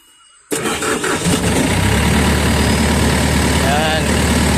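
A Kobelco excavator diesel engine with a damaged solenoid starts abruptly and settles into a loud, steady, rumbling idle close by, with a voice talking over it.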